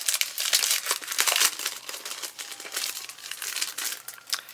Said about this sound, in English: And then the stamps, I can just take them out of this plastic container.